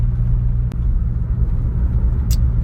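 Low, steady engine drone from a VW Passat B5.5 turbo running at full throttle without boost, heard from inside the car, with a brief click and a short high rattle; no talk.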